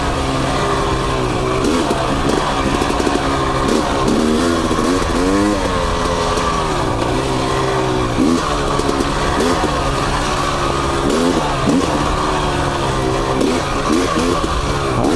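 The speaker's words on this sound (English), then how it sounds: "I hear a bike." A motorcycle engine drones steadily through pitch-black midnight riding, its pitch rising and falling with revs, loud and continuous with faint talk over it.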